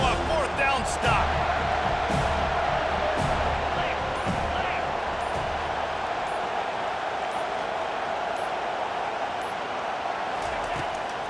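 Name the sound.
stadium crowd roaring, video game College Football 25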